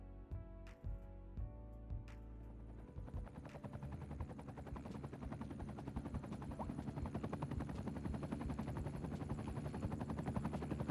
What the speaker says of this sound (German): Wo ist der Hubschrauber? Da ist er.